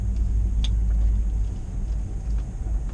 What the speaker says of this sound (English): we're going to take the Touareg for a little spin